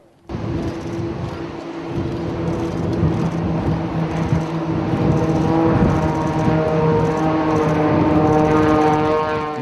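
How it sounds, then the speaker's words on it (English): Propeller stunt plane engines drone loudly and continuously at an air festival, the pitch rising and swelling as planes fly close overhead. "The propeller-powered stunt planes seemed to defy the laws of physics"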